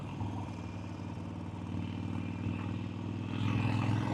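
A motorcycle engine hums steadily during a ride, a low droning tone close to the listener that swells slightly toward the end, with no voices.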